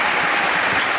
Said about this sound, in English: Everyone, let's give a big round of applause to Mr.